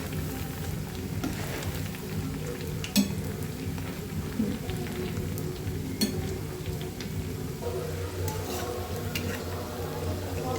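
Sabudana vada frying in hot oil and being turned over, a continuous soft sizzle and bubbling with occasional sharp clicks of a utensil against the pan.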